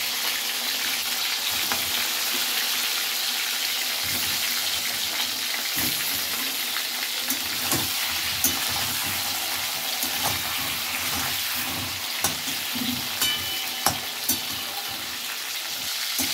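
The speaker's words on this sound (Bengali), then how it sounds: "পেঁয়াজগুলো ভাজা হয়ে গেছে," Onions fry in hot oil as crab curry is being made, a continuous sizzling hiss with scattered clicks and scrapes of stirring, moderately close and steady with no talk.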